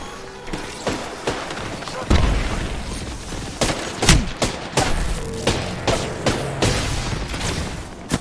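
Grenade blast and rapid gunfire in a chaotic Apex Legends firefight, with repeated sharp bangs and heavier booms over a busy battle din, a voice briefly speaking amid the action.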